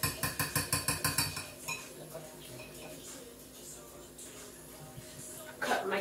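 Rapid rhythmic clinking of a hand whisk beating egg-free, dairy-free cake batter in a bowl, a quick burst of strokes that gives way to softer stirring and scraping, with a little talk.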